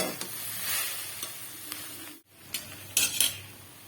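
Pumpkin leaves fry in a pan with a steady sizzle while a utensil stirs and scrapes, giving soft clinks and brushing sounds; a brief gap near the middle, then a few sharper metallic taps near the end.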